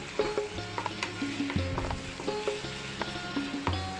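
Ginger, chili and garlic paste sautés in about a spoonful of hot oil for Manchurian, giving a steady close sizzle with repeated stirring scrapes and clicks, no talking.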